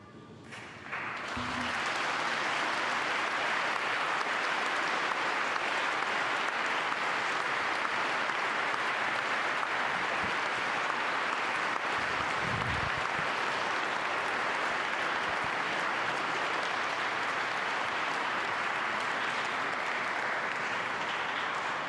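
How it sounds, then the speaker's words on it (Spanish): A large audience bursts into sustained applause after Pope Francis speaks at a meeting with the poor and refugees in Budapest, rising quickly after a brief pause and holding a dense, even clapping roar to the end. "Inmediatamente el aplauso a las palabras del Santo Padre"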